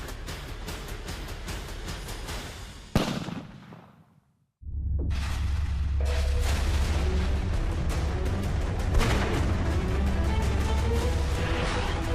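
A hunting rifle fires at a whitetail buck in southwest Kansas: one sharp, loud shot with a rolling echo that fades to near silence, followed by steady wind-like rushing.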